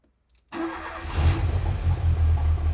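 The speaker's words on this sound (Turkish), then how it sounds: "Şimdi kendisinden bir marş yapmasını isteyeceğim." After a moment of silence, a Fiat Tipo 1.6 MPi petrol car engine, freshly adjusted, cranks and catches at once, then runs at a loud, rough idle with a rhythmic low pulse close by.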